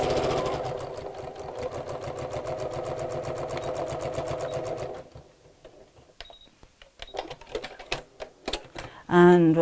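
A sewing machine runs steadily for about five seconds while stitching down a pocket edge, then stops, followed by light clicks and handling noises and a short burst at the end.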